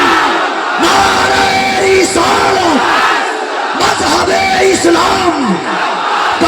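A large crowd answers the takbir slogan at a religious gathering, roaring a loud chanted response in two big waves of massed shouting.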